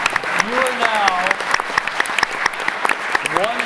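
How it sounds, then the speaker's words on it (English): A conference audience breaks into applause for a panel: many hands clapping in a lively burst, with a few voices rising over the clapping. "let's give a real round of applause for this amazing panel of thinkers"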